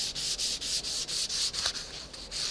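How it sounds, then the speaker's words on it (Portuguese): Sandpaper is rubbed back and forth across wood by hand in quick, even strokes, each a soft close scratching swish, about ten of them in a steady rhythm. "agora é que fazíamos o lixamento da madeira"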